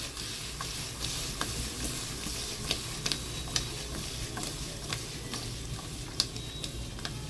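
Paneer frying in a kadhai with red chilli, a steady close sizzle with scattered sharp ticks and taps of a stirring spoon.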